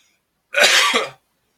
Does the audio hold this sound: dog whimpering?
no